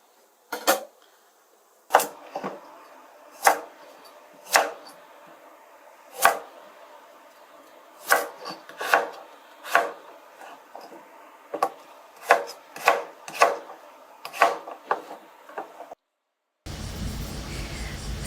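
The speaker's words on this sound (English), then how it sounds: "We're just going to cut the onion like this." A knife chops an onion on a wooden board in a kitchen, about twenty sharp, separate thuds at an uneven pace, some in quick clusters, close and clear over near silence, ending with a short burst of noise.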